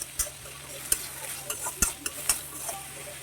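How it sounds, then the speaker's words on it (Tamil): Onion and curry leaves frying in oil with mustard seeds, a soft sizzle broken by a few sharp stirring clinks and scrapes, close but fairly quiet, no talk. "நெக்ஸ்ட்டு வெங்காயம், கொஞ்சோண்டு கருவேப்பிலையை ஆட் பண்ணிக்கலாம்."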